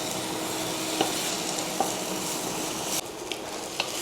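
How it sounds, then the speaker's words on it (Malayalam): Ginger garlic paste frying with softened onions in a pan for chicken biryani, a steady hiss of sizzling with a few sharp scrapes of a stirring spoon, the frying briefly quieting near the end. "അപ്പോൾ നമുക്ക് ഇത് നന്നായിട്ടൊന്ന് ഇളക്കണം."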